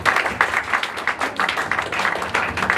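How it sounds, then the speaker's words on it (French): Anniversary gathering audience giving a lively round of applause, loud dense clapping with rhythmic pulses running throughout, no voices on top. "Alors applaudissez pour cette vision, s'il vous plaît."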